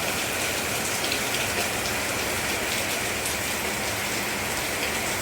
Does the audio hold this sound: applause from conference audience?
no